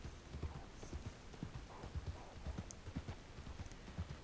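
A horse in the Red Dead Online game clip-clops along at a quick, rhythmic gallop, hoofbeats fairly close over a faint ambient background.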